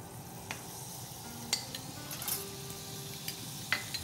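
Butter sizzling in a pan with vegetable oil, a steady close crackle and hiss joined by occasional utensil taps and scrapes as it is stirred.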